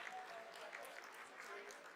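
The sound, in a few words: applause in ISRO mission control during Chandrayaan-3 landing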